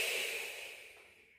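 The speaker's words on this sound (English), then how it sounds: "make a noise like you're blowing up a balloon. Force that air out" A single forceful breath pushed out through pursed lips as if blowing up a balloon, close and airy, starting strong and tapering off into silence.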